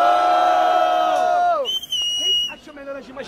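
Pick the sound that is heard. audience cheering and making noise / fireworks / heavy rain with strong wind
audience cheering and making noise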